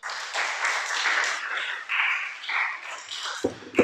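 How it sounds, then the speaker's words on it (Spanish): A congregation applauds during a Torah teaching service, a steady wash of clapping from many hands that fades out near the end. "Dale un aplauso al Creador."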